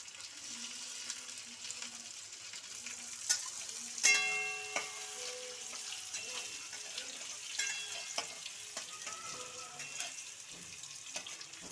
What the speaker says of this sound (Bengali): পেঁয়াজটাকে একটু সোনালি করে ভাজছি